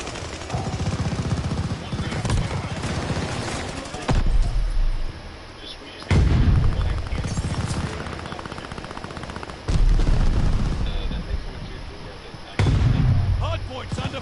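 Video game gunfire around a hard point objective, with bursts of automatic weapon fire and heavy impacts recurring every few seconds amid loud, dense battle noise.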